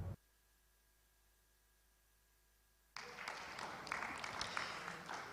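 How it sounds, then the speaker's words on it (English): Applause breaks out at a business conference in Jakarta, a dense wash of clapping from the audience that starts abruptly after nearly three seconds of near silence and carries on steadily to the end. "a round of applause from Jakarta, indeed"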